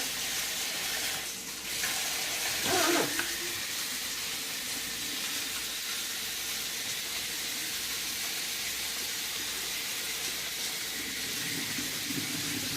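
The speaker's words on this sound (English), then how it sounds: "open cold water inside" Steady broadband rush of cold water streaming from a tap, continuous and fairly close, with a brief clatter near the start.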